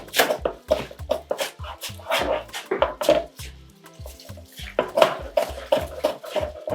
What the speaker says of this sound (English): So I'm going to be dicing them.